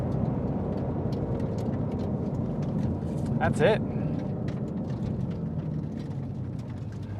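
A loud Ford Mustang GT350R engine roars steadily under brief talk, with a short high whine rising partway through.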